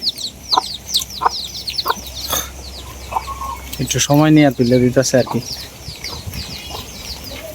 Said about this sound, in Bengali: মুরগির বাচ্চা ফুটাইছে